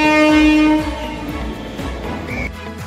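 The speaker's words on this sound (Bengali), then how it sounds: "আমাদের শাওড়াফুলি ট্রেন চলে এসছে।" Suburban train pulling into Sheoraphuli station, a loud horn blast at the start giving way to rhythmic wheel clacks over the rails and platform rumble, close by.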